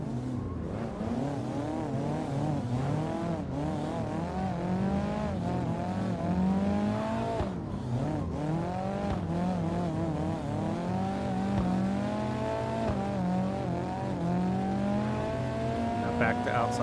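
A car drifting through a series of corners, engine revving up and down in repeated sweeps with tire squeal layered over a steady drone; a voice talks over parts of it.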